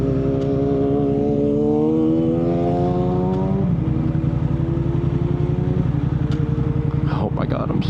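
A motorcycle engine drones steadily while riding in fifth gear, with a low, continuous hum whose pitch falls, then holds. Wind rushes through the sound and a voice speaks over it.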